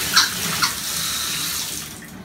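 A home shower runs in a steady, close hiss of falling water with a couple of brief splashy bumps, then thins out as the flow is shut off near the end.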